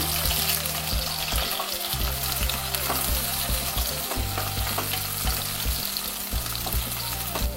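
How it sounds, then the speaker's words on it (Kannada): Green chillies frying in hot oil with lightly golden onions for carrot rice, a dense, continuous sizzle with frequent scraping stirs of a spoon against the pan, close and loud with no talking. "ಹಸಿಮೆಣಸಿನ್ಕಾಯು ಸಹ ಚೆನ್ನಾಗಿ ಫ್ರೈ ಆಗಬೇಕು."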